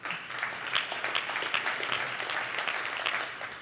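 Audience applause at a business summit, a soft and steady patter of many hands clapping heard from some distance, holding even for the whole stretch.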